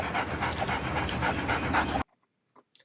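Dog panting heard from a television advert, rapid rhythmic breaths filling the first two seconds at steady loudness, then cutting off abruptly to near silence with a faint brief sound near the end.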